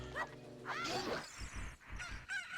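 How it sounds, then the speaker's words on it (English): A rooster crows in the video game Zelda: Ocarina of Time, a brief synthesized cock-a-doodle-doo with rising and falling calls, fairly quiet and heard alone without talk. "Wait for that rooster to caw."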